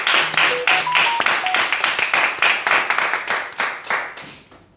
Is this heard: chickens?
no